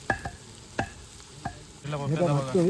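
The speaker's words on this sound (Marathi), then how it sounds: "ते वाटप आहे ना ते आता ह्या फोडणीत भाजायचं आहे" A few sharp taps of a utensil on a pan, then a loud hissing sizzle of ground spice paste frying in hot oil.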